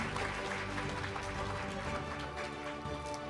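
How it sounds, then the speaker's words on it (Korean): Dense, continuous applause from a large audience at a library awards ceremony, steady and loud for the whole stretch with no voices standing out. "여러분 큰 박수 부탁드리겠습니다"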